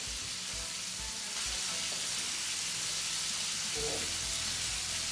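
Butter sizzling in a hot pan just before diced apples go in, a steady close hiss and crackle throughout with a few soft knocks and scrapes of the pan.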